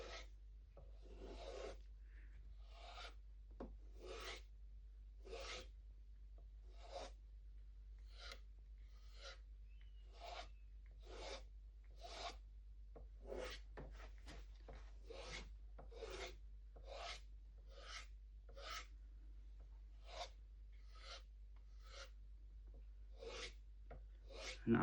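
Kitchen knife drawn repeatedly across to remove micro burrs after sharpening on a Tormek T8, giving about twenty-five soft, evenly spaced raspy strokes, close and quiet over a low steady hum.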